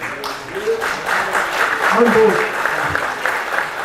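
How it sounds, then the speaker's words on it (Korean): Audience clapping in a Korean lecture hall during a talk on security policy, a steady patter of applause through the whole stretch with a voice speaking over it. "지금 이 대목에서 박수 치시는 거 보니"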